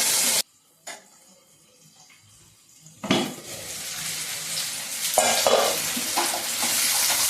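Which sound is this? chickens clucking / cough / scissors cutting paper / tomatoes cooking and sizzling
tomatoes cooking and sizzling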